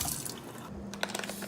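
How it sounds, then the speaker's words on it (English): Half a tablespoon of water is poured into a bowl of water and sugar for baking, making a short, faint trickle and a few light splashes. "I'm going to get my half a tablespoon of water and add it in."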